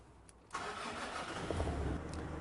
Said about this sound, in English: now we're going to turn the engine on so we can see live data values.